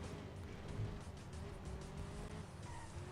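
Small electric slot cars whir steadily on a racing track in a live-streamed video game, a continuous close engine whine with faint tire squeal, holding level throughout.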